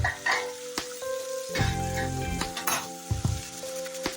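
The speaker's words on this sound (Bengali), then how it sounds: "এখানে আমি বসাচ্ছি আলু ভাজা আলু ফুলকপি ভাজা" Potatoes and cauliflower fry in a pan, giving a steady close sizzle with clinks and scrapes of a utensil against the pan running through it.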